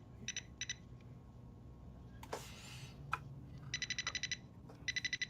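Short bursts of rapid, high electronic beeps from Christmas lawn ornament lights repeat several times, with a couple of clicks and a rustle between them; fairly quiet, no talking.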